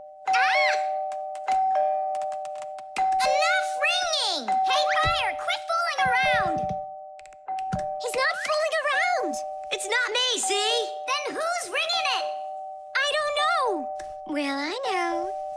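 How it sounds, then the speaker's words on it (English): A doorbell shorted by fire-fused wires rings in a steady sustained tone that runs through the whole scene beneath animated cartoon voices and children's speech. "The doorbell's ringing because fire connected the wires together."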